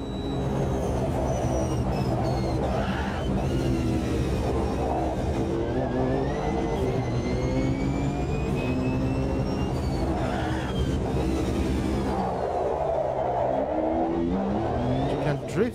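A race car engine in a Le Mans racing video game drones and shifts pitch through gears, rising and falling steadily for the whole stretch, loud and continuous with no talk.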